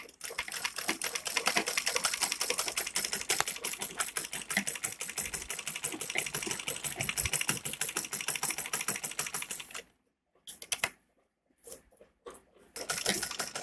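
A sewing machine stitches around a garment neckline with a fast, even rattle of needle strokes for about ten seconds, then stops and gives a few short bursts.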